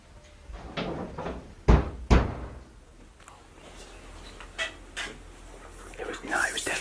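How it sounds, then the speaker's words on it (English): A police officer bangs on the entrance door of an abandoned chapel: two heavy, close thumps come in quick succession, followed by quieter knocks and rustling, with faint whispering from people waiting inside. "an officer banging on the entrance door to the chapel"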